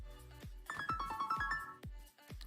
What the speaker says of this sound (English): Phone call came through.